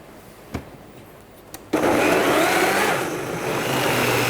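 A countertop blender whirs up to full speed blending cold tomato soup, a loud, steady, close motor roar with a slight shift in pitch as it churns, after a couple of faint clicks and taps.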